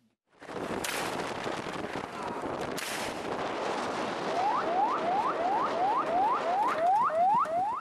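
Police gunfire into the air to break up a street brawl in Kampung Pulo, East Jakarta: two sharp cracks cut through steady crowd and street noise, followed by a run of rising, whooping alarm-like chirps.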